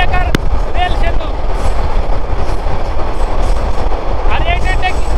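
A train rumbles loudly and continuously across the Jamuna rail bridge, a dual-gauge line, with a steady low roar, faint wheel rhythm and brief high squeals, while a voice talks over it.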